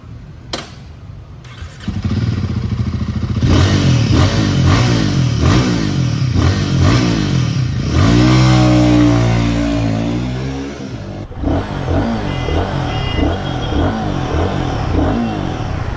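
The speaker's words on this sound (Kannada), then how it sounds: "ಸೇಮ್ ಆ ಶರ್ಪ ಇಂಜಿನ್ದು ಫೋರ್ ಫಿಫ್ಟಿ ಸಿ ಸಿ ಗ್ರಂಟ್ ತುಂಬ ಚೆನ್ನಾಗಿದೆ ನೋಡಿ" A Royal Enfield Guerrilla 450 motorcycle with its 450 cc Sherpa engine starts up close by, settles into a loud, steady thumping idle, then revs hard in a rising and falling blip before dropping back to idle.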